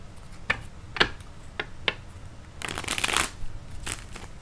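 A tarot card deck is shuffled close up, with a few separate card flicks and taps followed by a brief, dense riffle of cards.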